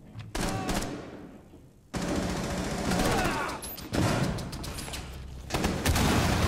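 Video game gunfire, repeated loud bursts of bullets and automatic fire in several clusters, with voices talking among the shots.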